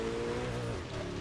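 A Bugatti Veyron Super Sport engine drones steadily in Forza Motorsport 6, its pitch shifting partway through as the car drives, with no voices over it.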